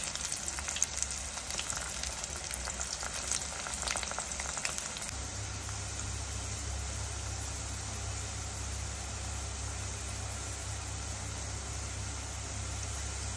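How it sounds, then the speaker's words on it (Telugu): Okra pieces for a catering-style cashew okra fry crackle in hot oil, spread apart so they don't stick. A steady, even sizzle runs the whole time with no voices. "ఇలా బెండకాయ ముక్కలు ఒకదానికొకటి అంటుకోకుండా విడివిడిగా వేయించుకోండి"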